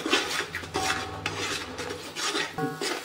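Potato and aubergine mixed vegetable being stirred together with gravy and masala in a pan, giving repeated scraping and rasping strokes of a spoon against the pan, close and fairly quiet.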